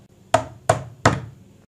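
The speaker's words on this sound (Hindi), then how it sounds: "तभी उनके घर का कोई दरवाजा खटखटाता है।" Three firm, evenly spaced knocks on a house door, close and loud, each a sharp hit with a short ring-out, heard alone in a cartoon setting.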